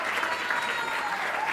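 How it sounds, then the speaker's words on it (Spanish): An audience at a comedy show applauds for a performer named Darcy in a dense, even round of clapping that holds steady and close throughout. "El aplauso para Darcy, la divina"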